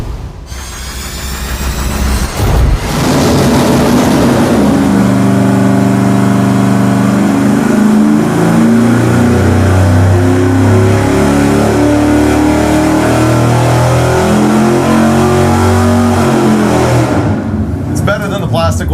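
An engine on a dynamometer, fitted with a fixed aluminum cooling fan, climbs from idle into a loud sustained high-rev roar with whooshing fan noise, holding for about fifteen seconds before cutting back down.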